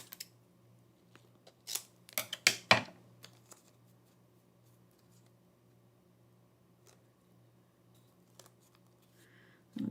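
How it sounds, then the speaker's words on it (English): Scissors cut across a piece of card during handmade glitter star card making, a quick cluster of sharp snips near the start, then quiet rustles and a final crisp snip at the end. "this end, I just need to cut that across like that"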